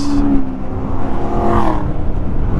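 An engine sweeps past on the road, rising and falling in pitch over a couple of seconds, loud and close against steady wind and rumble, heard from a Honda 125 learner motorcycle.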